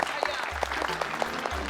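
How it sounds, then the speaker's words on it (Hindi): Audience clapping at a Diwali gathering under a pandal tent, a steady patter of hands that is moderately loud, with a voice talking over it and low background music. "यहाँ तालियां बजती है।"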